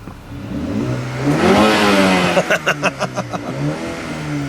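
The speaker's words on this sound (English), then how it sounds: "foot on the brake, give it a little rev" A Mercedes A35 AMG engine swells into a loud rising rev from idle, then fires off a rapid series of about seven sharp throttle blips close by, with no one speaking.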